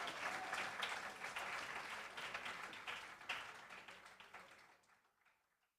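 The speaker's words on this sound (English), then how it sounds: "So I do think they deserve a round of applause" An audience at a national awards of excellence ceremony breaks into a round of applause, dense clapping from a moderately distant crowd that gradually thins and fades to silence over several seconds.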